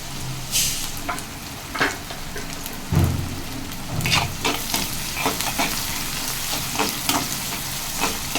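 Onions and curry leaves sizzle and fry in a pan for a chicken liver fry, with a steady crackling hiss broken by a few louder stirring scrapes and clicks close by.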